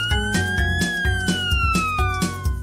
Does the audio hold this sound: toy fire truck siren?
yes